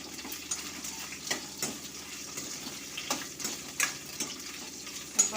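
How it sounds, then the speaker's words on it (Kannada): Moringa pods (drumsticks) fry in a pan with a continuous soft sizzle, broken by occasional louder scraping stirs. "ಚೆನ್ನಾಗಿ ಫ್ರೈ ಮಾಡ್ಕೊಳ್ಳೋಣ"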